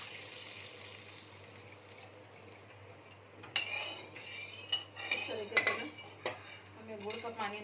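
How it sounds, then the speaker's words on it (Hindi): Jaggery water poured into a metal pan for sweet tamarind chutney, a steady liquid splash with utensil clinks against the pan that grow busier in the latter half, fairly close but modest in level. "और अब हम इसमें डाल देंगे ये गुड़ का पानी"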